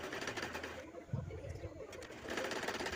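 A sewing machine stitches around the edge of old pants with a faint, steady mechanical whir and rapid rhythmic ticking, heard close but quietly in a room.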